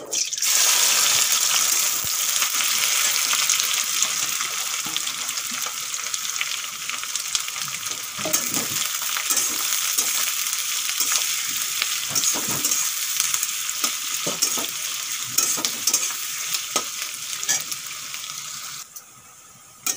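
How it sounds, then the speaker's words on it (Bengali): Sliced onions, a bay leaf and whole garam masala spices fry in hot oil for prawn biryani, a steady loud sizzle with occasional stirring clatter throughout, fading out near the end. "তেল গরম হয়ে গেছে, দিয়ে দেব একটা তেজপাতা, গোটা গরম মশলা, কেটে রাখা পেঁয়াজ দিয়ে দেব"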